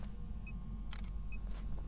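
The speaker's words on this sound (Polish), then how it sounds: "Możemy zrobić fotę kolejną" A camera shutter clicks while a photo is taken in the ghost-hunting game Phasmophobia, two short sharp bursts, the second followed by a softer echo, over a steady low rumble.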